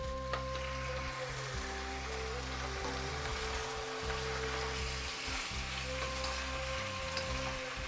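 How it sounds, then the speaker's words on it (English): Cauliflower manchurian is tossed with sauce in a hot pan, making a continuous moderate sizzle over a steady low tonal hum throughout. "We're just going to add sauce and give it another mix."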